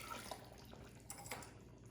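Freshly boiled water pours into a heat-proof container holding gelatin, a faint, soft splashing and trickle with a few small drips.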